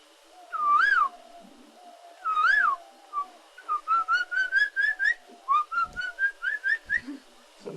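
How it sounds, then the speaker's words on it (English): Asian koel, the kokila, singing in the morning: a loud, close whistled call with rising notes, two long phrases followed by a quick run of repeated climbing whistles. "But you'll hear this kokila."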